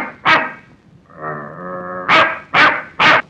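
A man imitates a dog barking, giving a sharp bark, then a drawn-out whining tone, then three loud, evenly spaced barks in quick succession, close and with no other voices.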